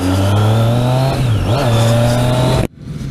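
Loud Triumph Street Triple 675 motorcycle engine revving with a steady harmonic drone that dips and swells, then cuts off abruptly near the end, leaving quieter background noise.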